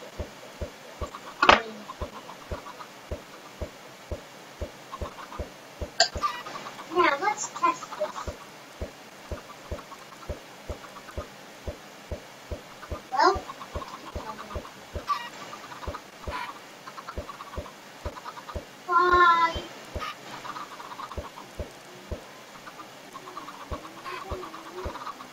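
Video game chicken clucks in short, scattered bursts over a steady rhythmic ticking background, fairly faint, with no talk over it.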